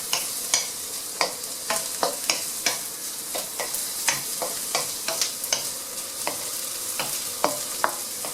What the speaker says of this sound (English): Right, keep stirring.